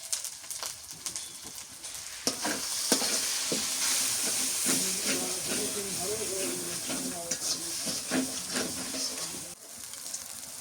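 Salt, turmeric and chili powder fry and get stirred in a pot over a village clay stove, a steady close sizzling hiss with repeated scraping stirs throughout, voices faintly in the background.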